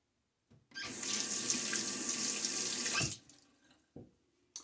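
A tap runs steadily into a sink for a rinse during a wet shave, a loud, even rush of water lasting about two and a half seconds, then stopping, followed by a few soft splashes and knocks.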